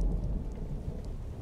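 Heavy rain pours steadily while low thunder rumbles through it, the storm coming from a TV show and heard at moderate volume with no talking.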